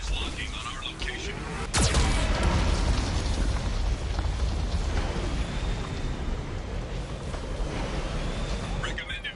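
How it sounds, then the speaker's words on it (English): A Geth cannon blasts in Mass Effect 2 with one sharp, loud boom, followed by a rumbling roar of fire and debris that fades slowly, with a synthetic warning voice over it. "Warning, Geth cannon is locking on our location."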